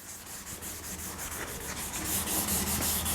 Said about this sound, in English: So now I'm rubbing all the way over the corner.